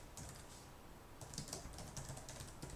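Typing on a computer keyboard during a programming lesson, a steady run of light, close clicks and key taps over a faint background hiss, growing slightly busier partway through.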